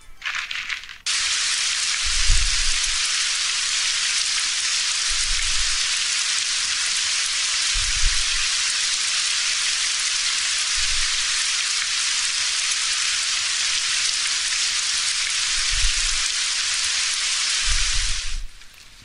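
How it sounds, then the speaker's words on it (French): Steady heavy rain hisses continuously in the video game Postal 2: Paradise Lost, with occasional low thumps underneath, loud and constant throughout. "Et il pleut tout le temps et ça m'énerve."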